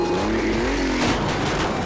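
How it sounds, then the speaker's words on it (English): A Datsun 128X revs and skids at a junkyard demolition derby, engine whine rising then dropping under loud crowd and crash noise throughout, with a tire squeal early on. "The Datsun speeds into all the cars."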